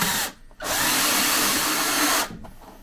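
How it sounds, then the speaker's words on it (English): A cordless drill with a bimetal hole saw cutting into plastic, a loud steady whirring grind in two bursts with a brief stall between, close up and with no talk. "I'm using a cordless drill with the bimetal hole saw."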